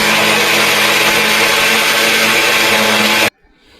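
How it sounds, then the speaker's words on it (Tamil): A mixer grinder whirs loudly and steadily for about three seconds while grinding garlic and ginger into a paste, then cuts off abruptly into near silence. "கொஞ்சம் பூண்டு, ஒரு ஒரு இஞ்சி எடுத்து மிக்சியில் போட்டாச்சு."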